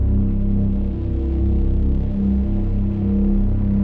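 A distorted, dark cinematic bass synth preset drones loud and heavy, its low rumbling tone pulsing slightly and holding continuously, alone and without speech.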